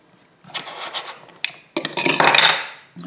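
Close, scratchy rubbing and scraping bursts, irregular and dry, as an ink blending tool scrubs across paper, growing louder toward the end.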